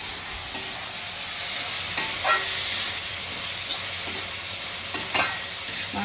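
Tomatoes and flat beans fry in a pan for a vegetable curry with a steady, close sizzle, broken by occasional scraping stirs of a spoon against the pan.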